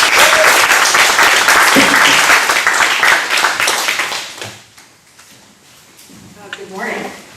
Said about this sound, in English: So we're going to clap and give God the glory.